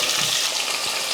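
Onion and sliced radish sautéing in a hot pan, a loud, steady hiss and sizzle heard close and on its own for about a second.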